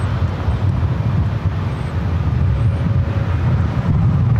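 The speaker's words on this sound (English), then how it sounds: "Cathay Pacific, the 777-300ER flight heading back to Hong Kong" Continuous loud broadband roar of a Cathay Pacific Boeing 777-300ER jet departing LAX, steady and close, with low rumble dominating and no voices.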